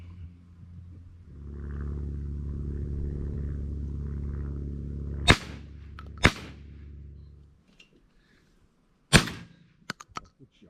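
Sharp, loud shotgun blasts during outdoor pigeon shooting, three distinct reports a second or so apart then another after a pause, each cracking over a low engine-like rumble that cuts off midway.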